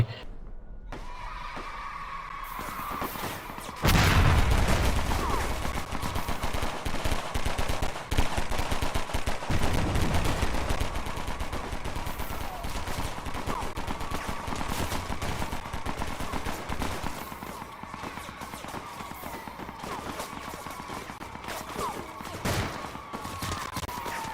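Heavy artillery and gunfire in the Roblox game Shell Shock: a loud blast followed by continuous rattling shots and booms that persist, dense and harsh, across the whole stretch.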